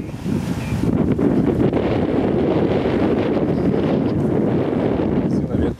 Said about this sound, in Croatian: Visina vjetra je poprilična.